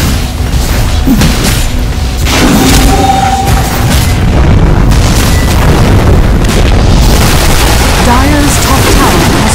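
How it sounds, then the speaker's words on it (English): An attack on Dire's top tower in Dota 2 brings a dense barrage of booms, impacts and spell effects, loud and continuous, with an announcer-style voice briefly heard over the clash. "Dire's top tower is under attack."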